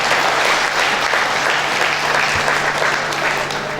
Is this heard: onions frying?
no